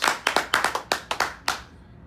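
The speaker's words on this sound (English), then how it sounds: "Clap for Comrade." A handful of people clap for Comrade Omoyele Sowore at a campaign gathering, about a dozen crisp, close claps in a brief uneven burst that quickly fades.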